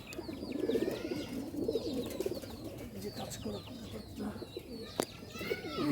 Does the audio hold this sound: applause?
no